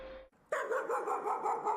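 Dog barking in the horror video game Layers of Fear, a faint tone followed after a short gap by a sustained, loud, whining bark-like cry that wavers for over a second.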